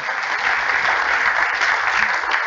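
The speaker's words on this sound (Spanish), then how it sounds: "Dele ese aplauso fuerte al Señor" A church congregation claps strongly during a Christmas sermon, a dense, even wall of applause holding steady throughout.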